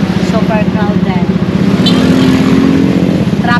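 Busy street traffic with motorcycles and cars in a crowded town in the Philippines, a steady close engine rumble and drone filling the whole stretch without a break.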